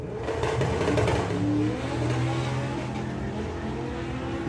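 A VW Golf van fitted with a big block Ford engine accelerates at a drag racing event. The engine note rises steadily and stays loud and continuous, with a faint whir and clatter mixed in.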